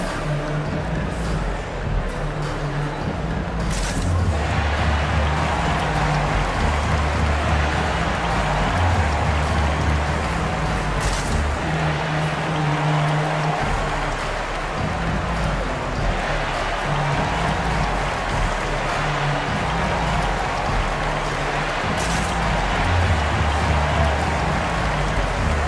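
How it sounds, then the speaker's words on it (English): Steady crowd roar and applause in an NBA basketball video game, a dense, continuous wash of cheering with occasional sharper bursts, sustained throughout. "Round of applause for your Chicago Lovables."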